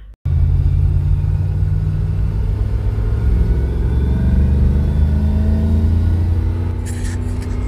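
A car with a GMC 6.2 V6 engine, set up for drifting, holds a loud, steady high-rev roar with a deep rumbling drone that continues alone, easing slightly near the end.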